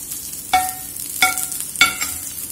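Chicken frying in a pan over slow heat, a low continuous sizzle with three distinct scraping strokes of a spatula, close and clear with no talking.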